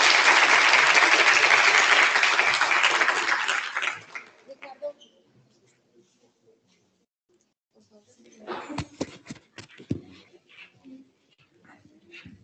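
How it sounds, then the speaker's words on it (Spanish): An audience applauds after an engineer's lecture at an alumni talk on the art and science of creating flavours, with loud sustained clapping for about four seconds that fades out, followed by scattered faint noises and brief voices. "Por favor, un aplauso."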